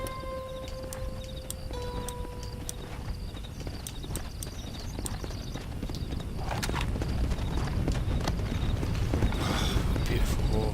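Steady clip-clop of horse hooves in Red Dead Redemption: Undead Nightmare, growing louder and busier toward the end, with game sounds and a faint voice in the background.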